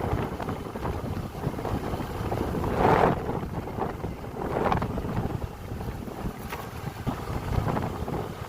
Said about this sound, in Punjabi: ਹਵਾ ਬਹੁਤ ਮਿੱਠੀ ਚੱਲ ਰਹੀ ਹੈ ਇਸ ਟਾਈਮ